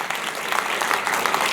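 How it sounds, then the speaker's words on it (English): Short burst of audience applause for Abby, the VP of Operations, at a visual tech investment event; dense, steady clapping of moderate loudness with no talk over it. "Round of applause for Abby."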